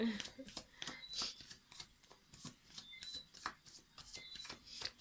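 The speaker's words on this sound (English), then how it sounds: "I'm gonna shuffle." Tarot cards are shuffled in a rapid series of crisp riffling snaps and flutters, close up, with soft murmured speech underneath.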